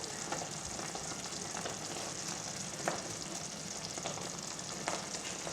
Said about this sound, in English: Give that a good mix and then let that simmer for a bit.